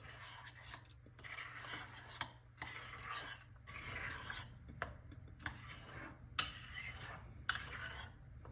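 Spoon stirring and scraping through a thick açaí bowl, a series of soft rasping, rubbing strokes with occasional light clinks of metal against the bowl, quiet and close.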